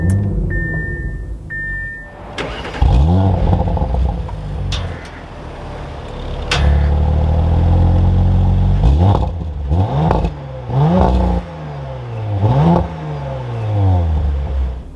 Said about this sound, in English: And then now inside the RS5, keeping my foot on the brake, we can go ahead and fire it up.